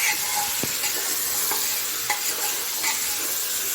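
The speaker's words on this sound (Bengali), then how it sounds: "মাংসটা এর ভিতরে দিয়ে দিলাম। দিয়ে নাড়াচাড়া করলাম।" Mutton is stirred in a pot for pulao, loud sizzling broken by several sharp scrapes and knocks of a spoon against the metal at an uneven pace, with no talking.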